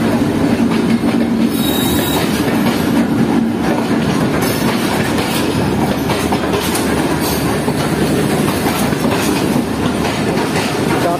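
The Shah Hussain Express rolls into a station with a continuous loud rumble of wheels on rails, rhythmic clickety-clack and occasional squealing brakes, heard close up without voices.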